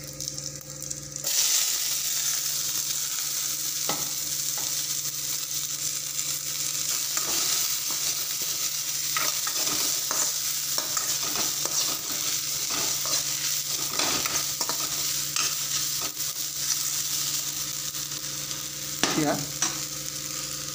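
Pieces of taro drop into hot oil with five-spice seeds. A loud, continuous sizzle starts abruptly and carries on, broken by intermittent scraping and stirring knocks, and no one talks.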